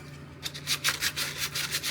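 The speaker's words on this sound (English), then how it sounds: "I've just sanded them now" Wooden handles being hand-sanded, finished to 120 grit: a run of rhythmic rubbing strokes, about eight close, scratchy passes over a low steady hum.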